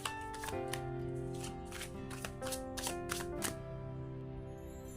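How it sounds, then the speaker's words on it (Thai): Tarot cards being shuffled in repeated short riffling bursts, close and fairly soft, over steady background music. "เดี๋ยวเริ่มสับไพ่กันก่อนนะคะ"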